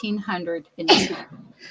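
A single sharp sneeze bursts out in the middle of a short stretch of speech, close to the microphone, and talking resumes right after.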